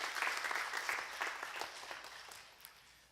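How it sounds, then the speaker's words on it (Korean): A church congregation breaks into a warm round of applause welcoming a visitor during a Sunday service, a dense, fairly quiet patter of many hands that gradually fades out. "우리 박수로 환영하겠습니다"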